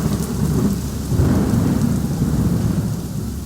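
Steady heavy rain pours down with a low, continuous rumble of thunder rolling underneath, loud and close throughout with no voices.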